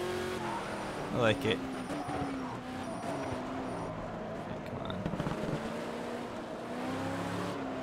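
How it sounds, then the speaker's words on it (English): A classic race car in the Project CARS racing game, with its engine droning steadily throughout, brief tire squeals near the start, and someone talking over it. "It's a fun car to drive, though."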